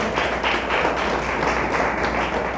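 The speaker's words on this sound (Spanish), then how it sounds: "Le damos un fuerte aplauso a Dios" Congregation at a Christmas church service applauding together, a dense, steady wash of many hands clapping fairly close and loud, with no talk over it.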